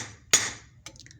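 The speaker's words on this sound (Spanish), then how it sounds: "Entonces le doy un golpecito al tornillo aquí" A lead hammer gives a single sharp tap on a bolt of a motor, followed by a fainter second knock and a brief metallic ring, close and otherwise quiet.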